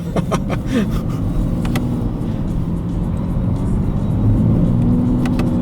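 A 2017 BMW 335d M Sport with an 8-speed gearbox accelerates from low revs, a steady interior engine drone rising gradually with some clicks and knocks while people talk over it.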